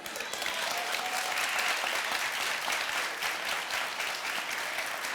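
Dense, sustained applause from a talk-show studio audience, loud and steady for about five seconds with no break.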